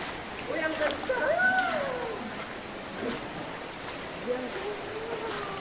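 The strong current of the Lipit River in Sison, Pangasinan rushes steadily nearby with a broad watery roar, while a voice talks over it throughout.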